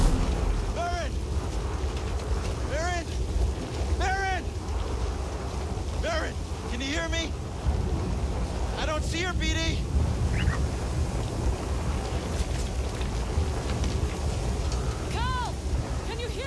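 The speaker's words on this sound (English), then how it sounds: "Can't see this storm." A sandstorm roars in the video game Star Wars Jedi: Survivor, a dense, loud wind-and-noise wash running continuously, with sweeping whooshes and tonal swirls over it.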